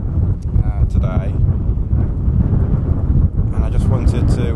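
Heavy wind buffeting a microphone on a blustery outdoor walk, a constant loud low rumble with gusty bursts and a voice partly buried beneath it.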